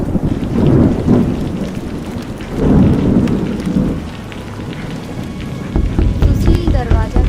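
Heavy rain pours down at night, a steady loud hiss broken by deep rolling thunder that swells twice and then fades, with drops spattering nearby.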